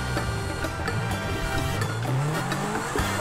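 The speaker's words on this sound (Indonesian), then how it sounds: "Kita coba off-road memakai mobil ini nih." A car drives off-road in GTA 5 with a steady engine drone that climbs in pitch as it revs. Tyre and body rattles tick along with it, with no talking.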